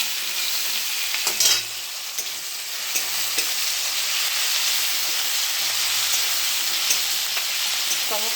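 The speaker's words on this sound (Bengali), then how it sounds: "পেঁয়াজটা একটু ভাজা ভাজা হোক, তারপরে বাটনাটা দিয়ে দেবো।" Onions frying with tomatoes in a pan for an egg curry, a steady close sizzle with occasional scraping stirs, no talking.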